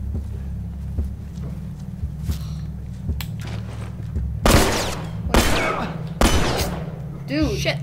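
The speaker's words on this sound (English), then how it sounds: "Who is shooting at me?" Gunfire in The Last of Us, scattered shots early on and then several loud, sharp close bangs in the second half, with footsteps and people talking in between.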